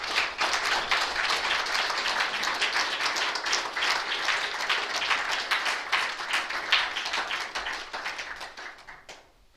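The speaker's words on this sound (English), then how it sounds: "Let's give another big round of applause for Anna." Audience applause after a personal talk, dense rapid clapping from a room full of people that holds steady and then tapers off near the end.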